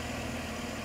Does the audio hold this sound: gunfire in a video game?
no